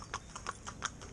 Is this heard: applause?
no